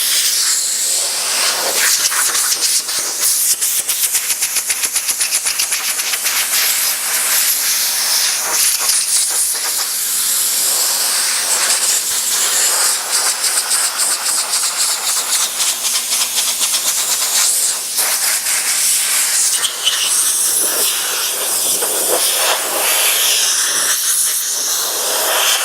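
A compressed air hose blows steady and loud for about 25 seconds, a broad rushing hiss cleaning parts of a Sidney lathe during restoration, with small flutters in the airflow and no speech.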